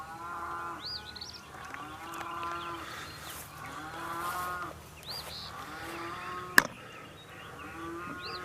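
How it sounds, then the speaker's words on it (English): Cows moo repeatedly outdoors, several drawn-out calls at varying distances spaced a couple of seconds apart, with one sharp knock partway through and a quiet background. "Sounds like the cows are missing one of their relatives."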